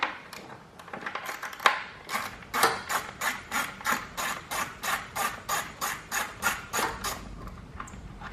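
A hand ratchet turns 10mm bolts on a Honda Ruckus scooter, a close series of rhythmic clicking bursts repeating steadily, one stroke after another, with no talk.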